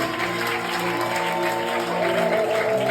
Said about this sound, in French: On peut ensemble acclamer le Seigneur fortement.